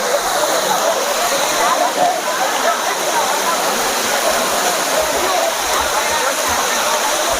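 Tada waterfall crashing and splashing nearby, a loud continuous roar of falling water with steady spray and no breaks.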